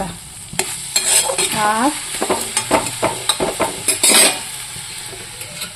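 Vegetables fry on low gas in a pan while being stirred, giving soft sizzling under a run of scraping and clinking spatula strokes, close and fairly loud, with a brief word spoken.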